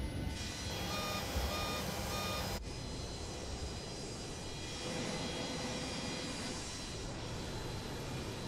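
A Boeing 727's number one engine spooling up high in a flight simulator game: a steady, loud broadband jet roar with a sustained whine, continuous for the full stretch, without any talk over it.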